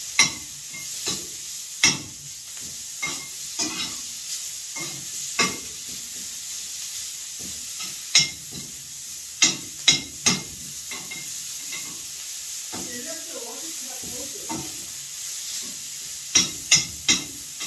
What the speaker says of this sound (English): So I'm just lightly browning the meat